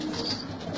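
A pigeon, one of a flock of Hama-style flying pigeons, gives one faint, very short coo against quiet background noise.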